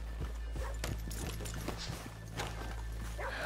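Horse hooves clip-clop at a slow walk in an irregular rhythm over a steady low background hum in Red Dead Redemption II, with no one speaking.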